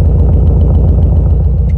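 A Subaru WRX STI sits idling through an Xforce aftermarket exhaust, producing a loud, steady low burble with a faint uneven pulse that stays constant and close throughout, with no voices.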